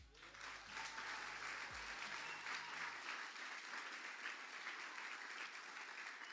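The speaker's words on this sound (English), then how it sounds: "the biggest applause for the teachers" An audience at a STARTedUP Challenge competition gives the teachers a loud, sustained round of applause, dense clapping filling the room continuously for over six seconds after a brief low rumble at the start.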